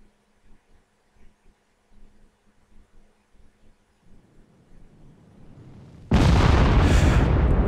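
A laser-guided bomb from an A-10 Warthog in the DCS flight simulator strikes with a sudden loud, sustained blast after several seconds of quiet cockpit hum and soft ticking.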